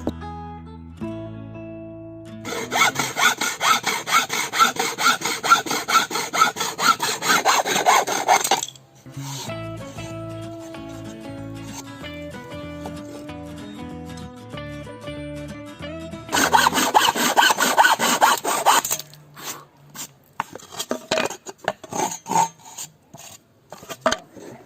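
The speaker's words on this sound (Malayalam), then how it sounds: "ഇതേപോലെ നമുക്ക് രണ്ട് സൈഡ് ഭാഗവും നമുക്കിത് കട്ട് ചെയ്യണം." Waste plywood pieces are sawn by hand, with close, loud rasping strokes in two long steady bursts and quieter scraping and handling between them.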